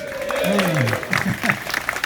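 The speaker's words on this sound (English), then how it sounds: "Give us a cheer for the Triumph today." A crowd at a motorcycle charity ride gathering claps and cheers for a sponsor, with voices rising over the applause, which swells in uneven bursts toward the end.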